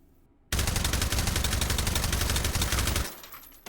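A suppressed AKS-74U carbine fires a continuous automatic burst of about two and a half seconds in the VR game H3VR, a dense rapid rattle that stops abruptly.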